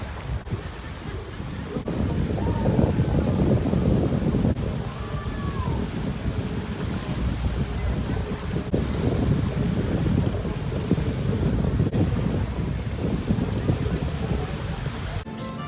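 Ocean waves wash ashore on a beach at a Cancún resort, with steady gusts of wind buffeting the microphone in a loud, continuous roar.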